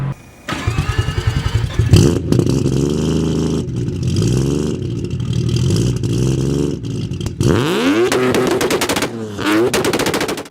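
A sports car engine revs hard to its 8,000 RPM red line, climbing to a shrieking high pitch with a harsh rapid crackle like automatic gunfire, loud and close, rising and falling repeatedly.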